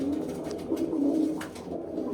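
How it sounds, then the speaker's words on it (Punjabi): Soft, low pigeon coos repeat over a steady background hum, fairly quiet and unhurried, with no talking. "ਇਹ ਆਪਣੇ ਬੈਠੇ ਆ ਜੀ ਵੱਡੇ ਕਬੂਤਰ"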